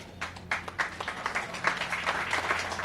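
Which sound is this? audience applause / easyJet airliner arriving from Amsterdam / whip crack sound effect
audience applause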